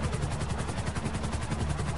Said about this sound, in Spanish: Aterriza el helicóptero encima del carrusel.